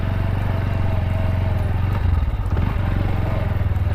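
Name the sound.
motorcycle being ridden past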